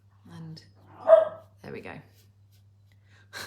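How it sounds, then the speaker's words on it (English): One pet dog barks and makes talking-like vocal sounds at another dog to get her to play, a few short yips nearby, mixed with a person speaking over a steady low hum. "My one dog, if you can hear in the background, is trying to get the other dog to play"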